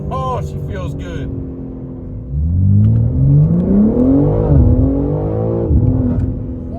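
A tuned 2023 BMW M3 accelerates hard from inside the cabin, its engine note climbing steadily through the gears with a brief dip at a shift, loud and continuous after a moment of lower idle.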